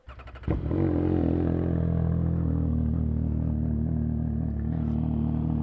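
A CFMoto 675SR-R motorcycle with a new, very loud exhaust starts with a clattering catch, then settles into a loud, steady, throaty exhaust rumble that holds close and continuous.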